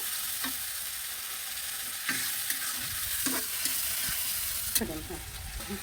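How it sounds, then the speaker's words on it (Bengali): Onion, green chillies and spices sautéing in a pan, a soft continuous sizzle broken by several scraping stirs of a spoon against the pan, fairly quiet and close. "এখন সব মশলা দিয়ে আমি কষিয়ে নেব।"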